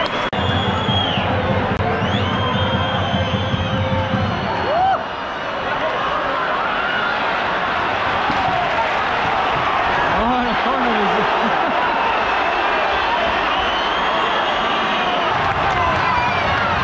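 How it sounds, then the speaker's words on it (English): Football fans in the stadium at a Racing Santander versus FC Andorra match give a broad, continuous roar of crowd noise and applause, with people talking close by over it. "Round of applause for number 6 anyway, from the fans."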